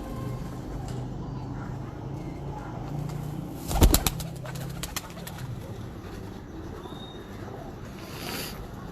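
Pigeons at a rooftop loft in DHA Lahore, with a brief burst of wing flapping and scuffling near the middle amid steady low background noise and faint cooing.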